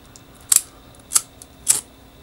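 Scissors snipping off the ends of a paracord bracelet: three crisp, close cuts spaced roughly half a second apart against a quiet background.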